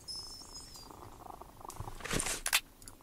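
Cat purring in the Sherlock Holmes Jack the Ripper video game, a soft low rumble under faint game ambience with a brief high tone at the start and a short louder burst near the end.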